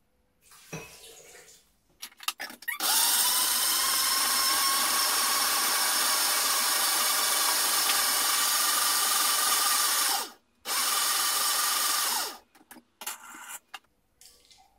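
A countertop blender purees beetroot, apricots and water with a loud, steady high-pitched whir that runs for about eight seconds, stops briefly, then roars again for two seconds before quieter handling clunks.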